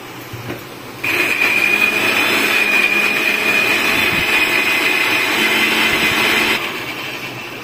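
A kitchen blender grinds tomato and spices in a steady, loud, high-pitched whir that runs continuously for several seconds, then cuts off abruptly, close by with no talking.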